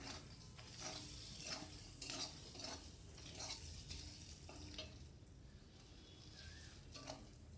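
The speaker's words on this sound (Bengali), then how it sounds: "এটাকে আবার নেড়ে চেড়ে আরেকটু কষিয়ে নেব" Prawn masala with green chilies being stirred and fried in a pan: a steady, faint sizzle with a run of soft, rhythmic scraping strokes, heard alone.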